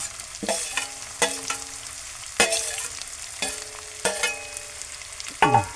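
Onion and tomato sautéing in a pan with garlic, a spatula scraping and stirring in five or six distinct strokes over a low steady sizzle, close and fairly loud with no talking.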